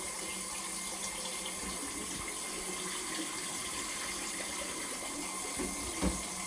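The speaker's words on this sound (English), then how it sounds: "the cold water is going in" Cold tap water pours steadily into a pot of eggs, making a continuous close splashing rush at moderate level with no talking.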